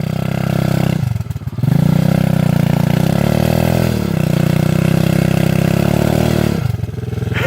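An Irbis TTR 110 pit bike engine revs hard and close, its throttle blipped repeatedly with brief dips between sustained loud revs, out on a forest ride.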